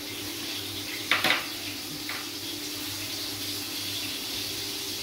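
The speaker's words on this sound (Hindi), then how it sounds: "अब हमने एक पैन ले लिया, चूल्हे के ऊपर रख दिया। इसके अंदर डालेंगे मूंगफली" Peanuts tipped into a pan on a stove: one short, close rattling burst followed by a smaller clatter about a second later, over a steady low kitchen hum, with no talking.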